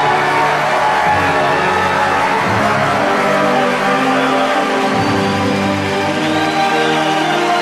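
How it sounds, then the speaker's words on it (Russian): An audience at a 2010 seminar award ceremony cheers and whoops in a loud, continuous ovation for a newly named queen, with shouts rising over the dense crowd noise. "Овации!"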